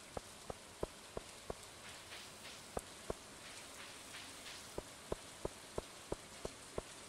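Rain in the Stardew Valley video game gives a steady soft hiss, with a regular series of crisp ticking drops or clicks layered on top.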